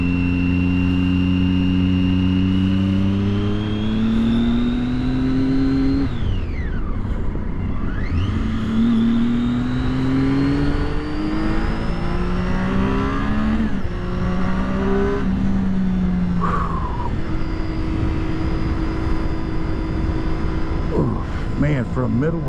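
A 2012 Triumph Daytona 675 middleweight supersport motorcycle engine revs up through the gears, its pitch climbing, dropping at shifts and climbing again, loud and close under a rider's talk.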